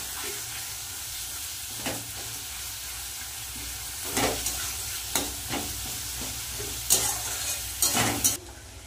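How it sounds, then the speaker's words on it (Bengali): Onions frying together with fish oil in a pan, a steady close sizzle running throughout with sharp scraping stirs and clinks at intervals, no one talking. "পেঁয়াজ আর তেলগুলো একসাথে ভেজে নেব।"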